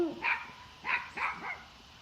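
Dogs, a bloodhound among them, bark in a few separate bursts at a moderate distance, with short yips between loud barks and no talking over them.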